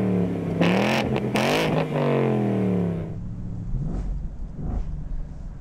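A 2018 Ford Mustang GT convertible's V8 and aftermarket exhaust rev sharply several times, loud and close, then settle into a lower burble with a couple of lighter blips.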